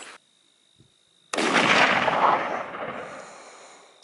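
One sharp, loud crack from a hunting rifle fired outdoors while zeroing a scope, followed by a long rolling echo that fades over about three seconds after a quiet lead-in.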